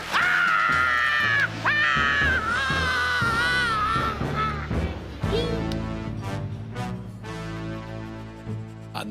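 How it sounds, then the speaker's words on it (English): Cartoon lobster screaming in a pot of boiling water: loud, shrill wailing screams in several bursts with crashes and clatter, then quieter sobbing and moaning as the scream fades. "that was the first and last time that a lobster has ever screamed."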